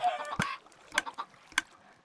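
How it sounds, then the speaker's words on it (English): Minecraft chickens cluck in short separate bursts, three or four sharp clucks spaced irregularly over a quiet background, close and fairly soft. "fire them eggs in to get some glorious chickens"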